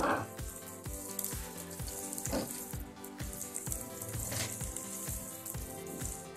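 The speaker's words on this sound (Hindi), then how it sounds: "हम भिंडी को थोड़ी देर के लिए पकने देंगे" Okra fries in a pan with browned garlic, a close steady sizzle broken by regular clinks and scrapes of a spatula stirring, with no voice.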